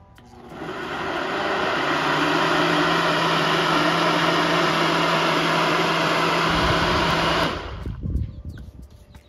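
A blender whirs loudly at full speed through a fibrous avocado smoothie, a steady harsh roar like a bandsaw that ramps up, holds for several seconds, then cuts off into a brief rattling wind-down.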